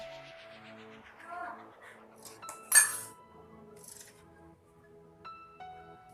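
A serving plate being taken out in a home kitchen, with scattered clinks and knocks of crockery and one sharper clatter midway, against faint background sounds.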